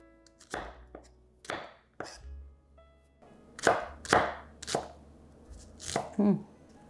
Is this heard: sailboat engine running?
no